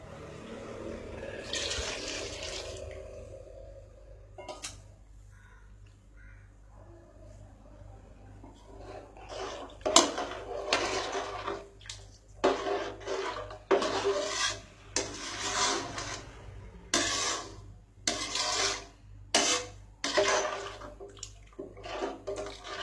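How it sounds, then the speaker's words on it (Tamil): Mutton stock and plain water are poured into a cooking pot, giving bursts of splashing and pouring that start sparse and turn into a steady, close run of sloshing near the end. "இந்த மட்டன் வேக வச்ச தண்ணி அப்புறம் இன்னும் எக்ஸ்ட்ராவாக கொஞ்சம் சுத்தண்ணி சேர்த்து ஒரு பாதி இதையும் அதில் ஊற்ற போகிறேன்"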